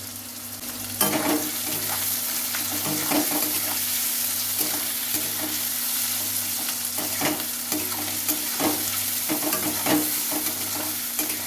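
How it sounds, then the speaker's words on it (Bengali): Onions frying in a pan while being stirred gently, a steady close sizzle broken by repeated scraping strokes of the spoon at an uneven rhythm, no voices. "পেঁয়াজগুলো দিয়ে দেওয়ার পরে ভালো করে এটা হালকা হাতে নেড়ে ছেড়ে নিতে হবে"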